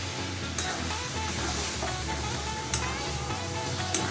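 Soybean curry being sautéed in a pan, with a steady sizzle and stirring scrapes running continuously throughout, close and fairly loud, with a few sharper clinks of the spoon.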